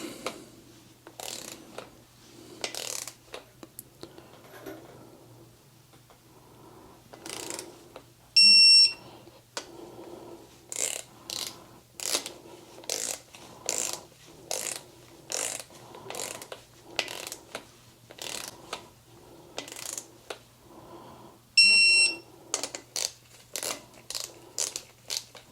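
Ratchet wrench clicking in repeated short bursts while bolts are tightened in a torque sequence during final assembly of a K20/K24 Honda engine build, close and distinct, no talking.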